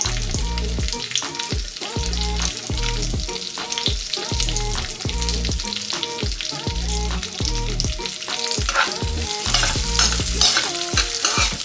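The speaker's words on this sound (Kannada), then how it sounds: "ಇದನ್ನು ಫಸ್ಟು ತುಪ್ಪದಲ್ಲೇ ರೋಸ್ಟ್ ಮಾಡ್ಕೊಳ್ಳೋಣ" Chopped cashews, raisins and almonds roasting in ghee over a low flame for pumpkin halwa, a steady close sizzle with a spoon scraping and stirring rhythmically against the pan throughout.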